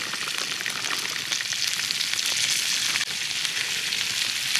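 Potatoes frying in bacon grease in a cast iron pan over a campfire: a continuous crackling sizzle, loud and steady, with a brief dip near the middle.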